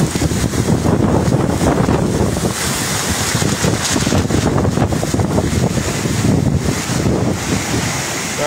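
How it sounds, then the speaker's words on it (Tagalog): Strong sea waves surge and crash against the shore during a storm, with heavy wind buffeting the microphone in a continuous loud roar. "Yan yung alon, no?"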